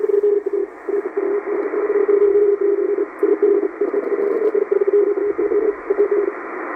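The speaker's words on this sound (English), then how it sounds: "Strong teletype 5340. EIBI Space shows it to be the U.S. Navy from Puerto Rico." Strong shortwave radioteletype signal at 5340 kHz from a U.S. Navy station in Puerto Rico, a continuous buzzing two-tone warble keying rapidly and steadily under band hiss, loud and unbroken.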